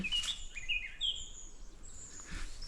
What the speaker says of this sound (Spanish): este silencio solamente con los pájaros ya desconecta de la ciudad